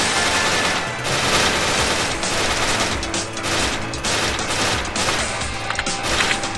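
Dense, continuous gunfire from the video game Strike Force Heroes 3, a steady rattling barrage of shots layered without pause and loud throughout, with no voices.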